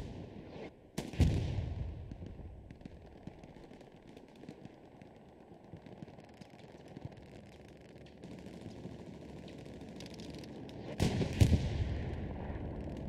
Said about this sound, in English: Sounds like a bombing run coming in.